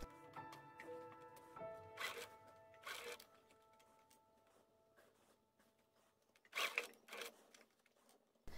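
A sewing machine stitches slowly along the gathered sleeve of a 1944-style vintage dress, giving quiet bursts of mechanical clatter and whirring with pauses between them and faint handling rustle close by.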